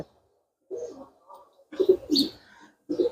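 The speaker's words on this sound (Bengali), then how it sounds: "এটা একটা মেল কবুতর" A male white golden pigeon with red eyes coos up close in a few soft, low, throaty bursts separated by short silences.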